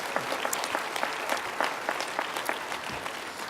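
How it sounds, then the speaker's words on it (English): Audience applause for direct care workers at a national convention awards event, a crowd of many hands clapping steadily and densely throughout, with crisp individual claps standing out in an even, moderately loud wash. "I think we should give them a big round of applause."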